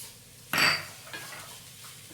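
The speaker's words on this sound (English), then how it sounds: "Let me just stir it a while." A utensil clinks against a pan while spices are stirred into samosa filling, one bright metallic scrape followed by a few softer taps and clinks in a quiet kitchen.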